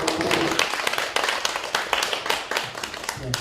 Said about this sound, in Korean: 박수를 받아주시죠